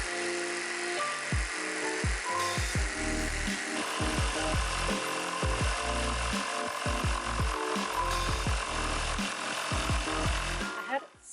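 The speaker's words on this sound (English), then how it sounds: "I had so much fun using this jigsaw. So that was a pretty rough cut just to get the shape" A jigsaw saws through construction lumber in a close, loud, continuous buzz, broken by short rhythmic chattering bursts as the blade bites the wood, and stops abruptly at the end.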